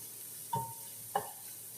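Onion frying in a pan while being stirred, a soft steady sizzle underneath two brief scraping strokes of the spoon against the pan, quiet and close.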